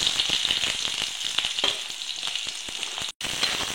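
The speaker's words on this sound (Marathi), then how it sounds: "तेलामध्ये व्यवस्थित कांदा भाजून घ्यायचा" Onion and mustard seeds fry in hot oil, producing a dense, crackling sizzle with rapid little pops, steady and close throughout, with one brief dropout near the end and no speech.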